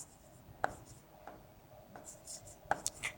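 A pen or marker scrapes out short strokes of handwriting on a board or page, faint and close, in a few separate bursts in a quiet room.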